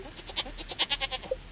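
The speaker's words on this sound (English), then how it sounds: "Now these goats obviously are too young," Young goats in the video game Stardew Valley let out a quick series of short, close bleats, several in a row with brief gaps and no voices over them.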